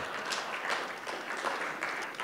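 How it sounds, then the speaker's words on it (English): Faint applause from a conference audience after a live home-device hacking demo, a soft, distant spatter of clapping with a few sharper bursts. "This is the time for you to applaud."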